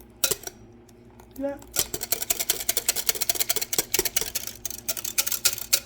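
A whisk clatters rapidly against a bowl while stirring an eggless holiday eggnog mixture, a fast run of bright metallic ticks that starts after a brief pause, with a short spoken remark near the start.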